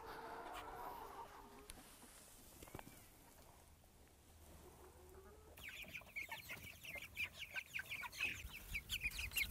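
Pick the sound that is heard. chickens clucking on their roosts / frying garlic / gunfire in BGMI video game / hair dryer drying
chickens clucking on their roosts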